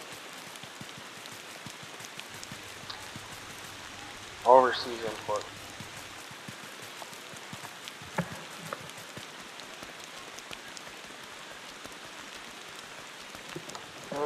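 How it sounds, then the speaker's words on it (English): Steady rain falls in the Motor Town video game, a soft even hiss throughout, with a brief spoken phrase partway through and a few faint knocks. "Oh, it's raining again."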